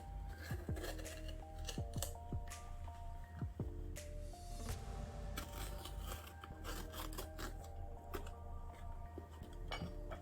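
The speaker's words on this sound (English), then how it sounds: "Just cut a piece from each of the bell pepper." Repeated knife cuts through bell pepper on a board, sharp clicks and chops with scattered clinks, a steady working rhythm up close.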